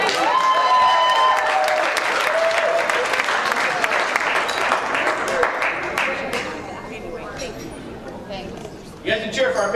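An audience at an annual installation celebration applauds a newly introduced 2017 president, dense clapping and cheering that fades toward the end before a brief renewed burst, with voices mixed in.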